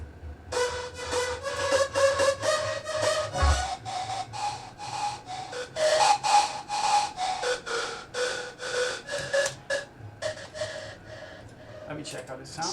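Layered synth lead from the Nexus preset Attack Plug, bright and sustained, playing a steady run of repeated notes with a dense high end over a low pad, loud and continuous with a brief low thump near the middle.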